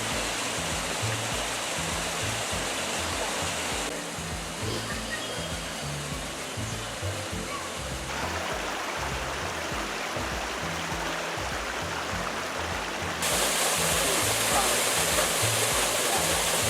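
Steady roaring rush of a waterfall in Matapalo, Costa Rica, dense and constant, with a slight swell in intensity toward the end.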